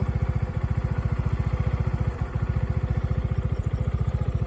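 A tractor engine chugs steadily in the middle of rice fields, its fast, even low-pitched firing pulses loud and close and continuing without a break.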